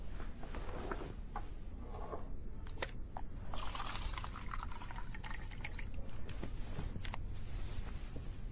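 Water is poured into a glass in a quiet room, giving a steady trickling and splashing pour with some faint drips and clinks, fairly close and with no talk over it.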